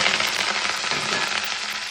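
Loud, steady sizzling of tempering seeds, onion, curry leaves, ginger and green chillies frying in hot oil, with fine crackling pops running through it and no talking.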